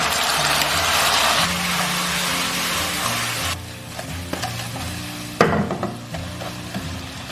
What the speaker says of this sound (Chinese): 加入葱姜蒜、点香， 引入我们调好的料汁